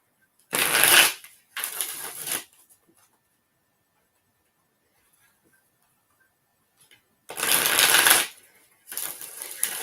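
Tarot cards being shuffled in two close, crisp bursts, a pause of near silence, then two more riffling bursts.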